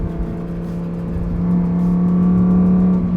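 Lamborghini engine, from the Urus S, Urus Performante or Huracan Tecnica, droning steadily while driving through corners on Italian roads, a sustained close tone that swells slightly partway through with no talk.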